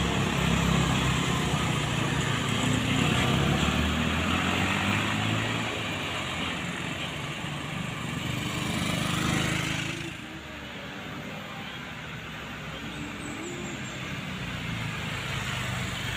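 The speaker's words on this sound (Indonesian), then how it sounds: "Ada truk Ragasa di arah sana, muatan log kayu" A log-laden truck drives along a road on the Sitinjau route in Tasikmalaya, its engine a steady, loud, close rumble that eases and fades slightly partway through.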